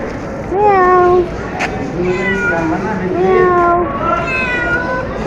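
A cat meows repeatedly at home, several drawn-out, rising and falling cries close by, with a person talking softly in between.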